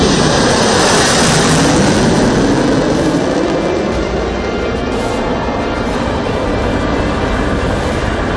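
Sukhoi Su-30 and Mirage 2000 fighter jets fly with Mi-17 V5 helicopters during an Indian Air Force rehearsal, making a loud, continuous roar that fills the whole stretch without letup.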